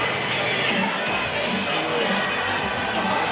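Crowd at a rugby league grand final, Magpies v Tigers, a broad, continuous roar of many voices with faint cheering, fairly loud and steady throughout.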